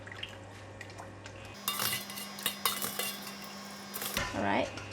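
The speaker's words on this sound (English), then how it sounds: "And put it in the cold water." Metal utensils clink and scrape against a pot as wonton noodles are moved into cold water, several short clatters and a brief watery swish in a kitchen, fairly faint and close.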